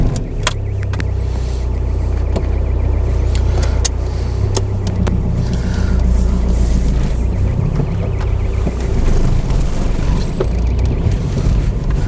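A car drives along the road with a steady low engine drone and constant wind and road noise filling the cabin, unbroken for the whole stretch, with no one speaking.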